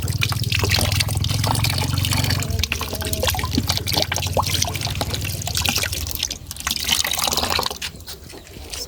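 Water running and trickling as meat is rinsed for cooking in a village home, a steady close splashing flow with drips that eases after a few seconds, no voices.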